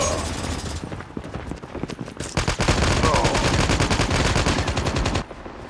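Rapid automatic gunfire bursts from the video game Call of Duty Mobile, loud and dense, with steady rattling fire carrying on for several seconds after scattered single shots.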